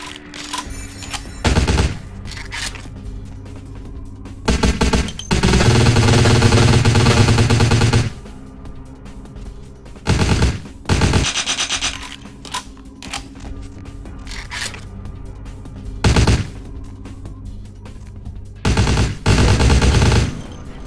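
Gunfire in a modded video game, repeated loud bursts of rapid automatic fire separated by short pauses and quieter clicks, close and alone without talk.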